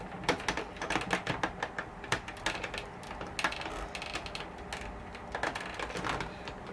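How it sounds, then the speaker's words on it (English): A Stampin' Cut and Emboss die cutting machine running, with a rapid series of mechanical clicks and ratcheting ticks in an irregular rhythm, close and fairly quiet with no talking. "And this will be the last of our die cutting."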